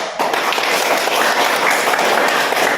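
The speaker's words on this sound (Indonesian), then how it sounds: "Tepuk tangan dulu." Classroom applause from students in a teaching session, brisk dense clapping starting abruptly and continuing evenly at moderate loudness for a few seconds.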